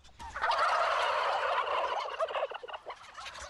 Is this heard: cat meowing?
no